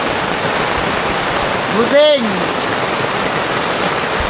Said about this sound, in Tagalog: Kasang hangin at ulan.